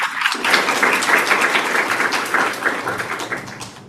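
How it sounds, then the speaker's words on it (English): Audience applause at an astronomy coding workshop: dense, steady clapping from a room full of people for nearly four seconds, fading slightly toward the end, with no voices. "There's many applause from the audience in case it doesn't come through the microphone."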